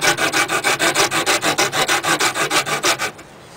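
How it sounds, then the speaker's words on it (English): A rasp files a hand-carved wooden propeller in quick, even strokes, about sixteen loud rhythmic rasping rubs in a row before stopping, close by with no speech. "You can use a rasp because it's straight and flat on one side"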